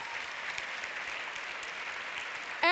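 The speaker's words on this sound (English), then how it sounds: "Please give a big round of applause to all three of them as well." Audience applause at a European film award ceremony, a steady even wash of clapping that holds for nearly three seconds before a voice cuts in loudly at the very end.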